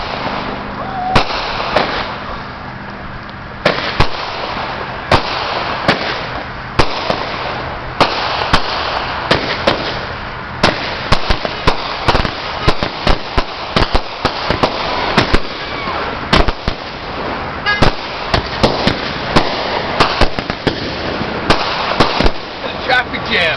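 A fireworks board set off outdoors, filling the air with dense, rapid crackling bursts and sharp pops in irregular volleys, loud and continuous throughout, with occasional voices in the background.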